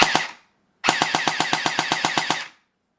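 A Cyma CM.046 airsoft gun fires on full auto: a short opening burst, a brief pause, then a loud, even rapid string of about a dozen sharp snapping shots close to the microphone.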